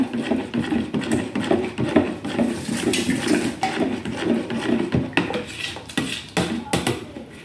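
A spoon stirs two spoonfuls of honey into a freshly strained homemade drink, giving repeated metallic clinks and scrapes against the vessel that ring out clearly over a steady background, with no talking.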